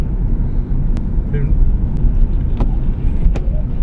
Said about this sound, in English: 2 buses driving along.